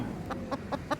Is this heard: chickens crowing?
yes